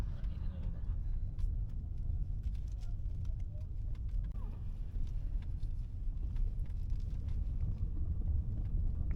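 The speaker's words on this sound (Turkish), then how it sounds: "Şu an Arnavut kaldırımlı yolda gidiyoruz ve hiç takırtı yok." A BMW F10 520i LCI rolls over a cobblestone road, heard from inside the cabin as a steady low rumble of tyres and road noise with faint ticks and little rattle, continuous and even.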